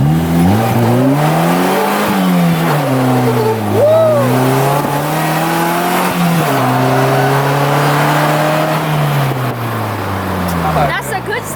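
A Polaris Slingshot's engine revs up and down while driving, a loud, close drone whose pitch repeatedly climbs and dips, with occasional voices nearby.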